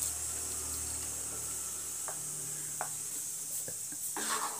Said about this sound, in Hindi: ये मिक्सी के जार में पानी डाल करके इसमें थोड़ा सा पानी डाल देंगे।